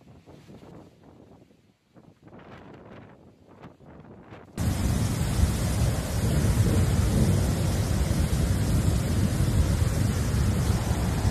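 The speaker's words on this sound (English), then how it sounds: "A powerful storm has swept through Germany, caused widespread destruction and significant damage in several regions." A powerful thunderstorm sweeping through Germany: faint, uneven rumbles give way to a sudden, loud, continuous roar of heavy rain and thunder that fills the rest of the stretch, with no voices.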